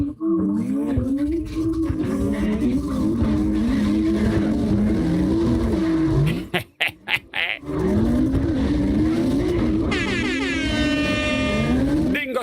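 Several cars in CarX Drift Racing Online drifting together, engines screaming and bouncing through revs with tire squeal, a brief dropout midway, then high-pitched whining revs return; loud and continuous.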